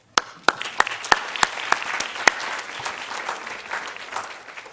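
An audience applauds to welcome Dr. Shomarka Keita to a conference podium. A few loud, separate claps open the sound, then it swells into steady, sustained applause from a crowd nearby.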